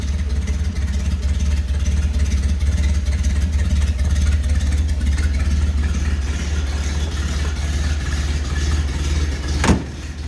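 A 1931 Ford Model A coupe idling steadily, a low, even engine rumble with a faint mechanical chatter above it, close by and continuous, with a brief sharp click near the end.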